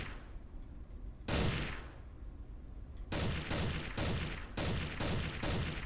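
Gunfire in the online shooter Crossfire: Legends: one short burst, then several rapid automatic bursts in quick succession, loud and close over a faint game ambience.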